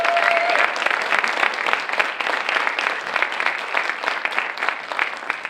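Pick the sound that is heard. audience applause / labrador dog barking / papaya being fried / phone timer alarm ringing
audience applause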